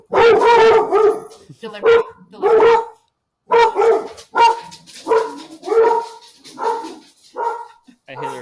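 A large 80-pound dog barking loudly and close in a rapid run of repeated deep barks with short pauses, with a person speaking briefly.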